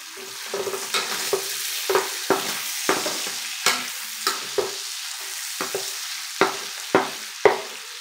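Bacon frying and sizzling in oil in a pan, a bright constant hiss broken by regular scraping strokes of a utensil roughly every half second, close and loud with no talking.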